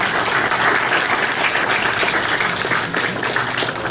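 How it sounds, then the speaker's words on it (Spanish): Conference audience in a university hall gives loud, continuous applause for an introduced engineer, dense and steady throughout with no speech over it. "fuerte aplauso."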